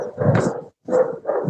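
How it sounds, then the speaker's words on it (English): A dog barks three times in quick succession, loud and close, with short gaps between the gruff barks. "This dog is named Skippy"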